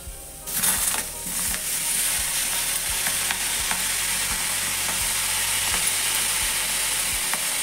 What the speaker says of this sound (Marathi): आपण आता शेंगाही भाजून घेऊया.